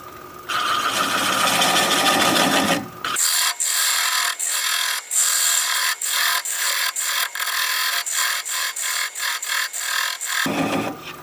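A wood lathe turning an end grain bowl at about 400 RPM, with a loud scraping cut that gives way to a rhythmic series of regular rasping pulses as the gouge meets the spinning wood, close and loud.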